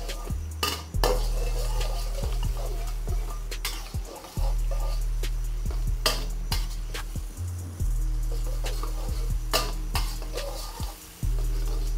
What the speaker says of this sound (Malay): Okey, kita tumis sekejap sehingga dia naik bau.